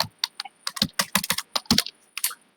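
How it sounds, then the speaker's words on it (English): Rapid keystrokes on a computer keyboard as a sender ID is typed in, a close burst of irregular clicks with brief pauses between words. "So let's type sender ID here."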